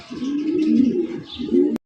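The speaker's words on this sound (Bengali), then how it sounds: "সুন্দর একজোড়া চমৎকার একজোড়া নান কবুতর" A pair of nun pigeons gives low, throaty cooing close up, two rolling bursts with a short dip between, plus faint higher chirps before a sudden cut.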